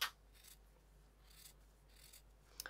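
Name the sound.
cutting fabric with scissors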